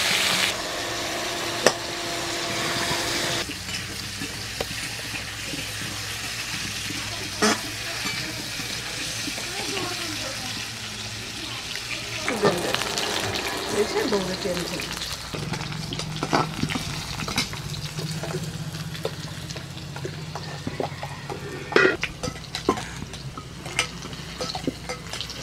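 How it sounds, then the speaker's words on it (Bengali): Pieces of elephant foot yam, seasoned with salt and turmeric, fry in a home kitchen pan with a low steady sizzle, broken by clinks and stirring scrapes of a utensil. "ওলগুলো ভাজা হয়ে গেছে এবার তুলে নেব"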